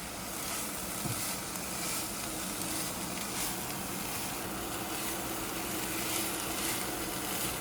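Continuous faint sizzle and crackle of chicken and vegetables frying in a full pan in an RV, even and unbroken throughout, with a soft background hiss.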